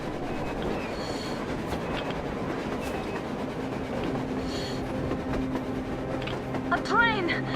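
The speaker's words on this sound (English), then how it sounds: "A train! A damn train on the surface!" In the Metro Exodus game, a train rolls along surface tracks with continuous rumbling and clattering wheels, ending in a brief metallic squeal, while voices talk over it.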